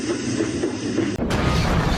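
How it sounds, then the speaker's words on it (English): Animated railway story effect of runaway trucks crashing into a small engine, a loud continuous rumbling crash that cuts briefly and then bursts back in with heavier noise. "The trucks crashed into Skarloey."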